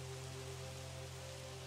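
Steady rainfall in Minecraft, a constant dense hiss of rain on surfaces, faint and unbroken, alongside a low steady background hum.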